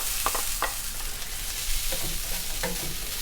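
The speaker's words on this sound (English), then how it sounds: "I'm frying it separately one by one" Coconut for chutney fries in oil in a pan, giving a steady hiss and sizzle, with a few soft scrapes from stirring.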